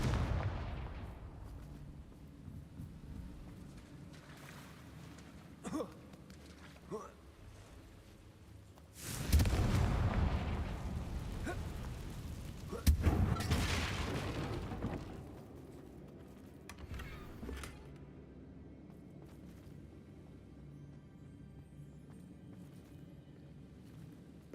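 Blasting Confringo spell explosions from the video game Hogwarts Legacy: two heavy booming blasts a few seconds apart, each trailing into a rumble, among quieter scattered game effects.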